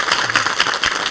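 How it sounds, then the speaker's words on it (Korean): A studio audience on a Korean morning talk show applauds a retired psychiatry professor, a steady wash of many hands clapping at moderate loudness with no talk over it. "박수로 감사 인사 전하겠습니다."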